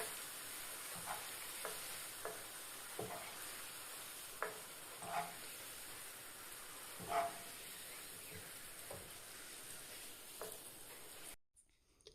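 Soaked raisins sizzling in hot oil, a constant hiss broken by periodic spoon stirs and small pops, ending abruptly.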